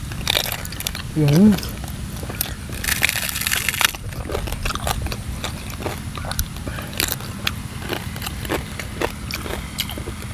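Crispy skin of a large whole roast pig being bitten and chewed, giving a loud crunchy crackle midway and softer chewing noises, close by under people talking.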